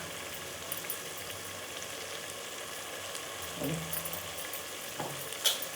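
Washed rice is added to a pan and stir-fried for vangi bath, giving a soft, steady sizzle with occasional scrapes and clinks of stirring, quiet and close with no talking.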